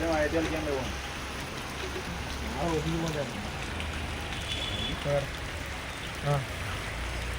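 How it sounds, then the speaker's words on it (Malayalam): Steady, heavy rain hisses throughout as a dense wash of noise, with people talking intermittently over it. "ഫുള്ള് മഴ. വേറെ നിവൃത്തിയില്ലല്ലോ."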